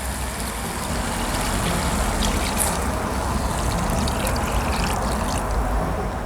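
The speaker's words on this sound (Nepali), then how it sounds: "ल अब यसमा चाहिँ हामीले ग्रेभी राख्ने टाइपले पानी राखौँ।" Water pours into fish curry cooking in a pan, a steady, continuous rushing and bubbling wash held at an even level throughout, close and moderately loud.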